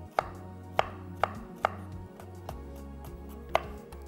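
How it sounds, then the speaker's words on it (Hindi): A knife chops tomatoes on a cutting board in a home kitchen, five or six sharp, distinct taps at an uneven pace over a low background hum, with no talking. "चलें, टमाटरों को थोड़ा सा करेंगे चॉप्ड।"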